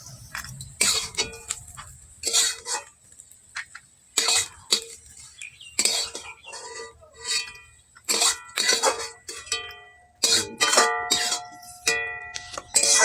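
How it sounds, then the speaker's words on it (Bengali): A metal spoon scrapes and clinks against a kadai as fried spices and dal bori are scooped out, giving irregular sharp clinks and scrapes with short quiet gaps between them, close and clear, with no talking. "এখন আমি কড়া থেকে তুলে নেব।"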